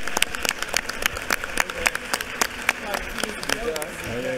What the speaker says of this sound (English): please join me in giving Jack and Jill of America a round of applause for their presence with us here today at the state capitol